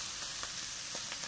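Food fries in a worn non-stick pan over a cooking fire in a mountain kitchen, a soft, quiet, continuous sizzle with faint crackles and no voices.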